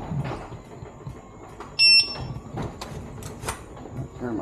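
A Minelab Manticore metal detector's low-power alarm beeps in a single short, high tone on a windy outdoor hunt, with rustling and handling noise around it.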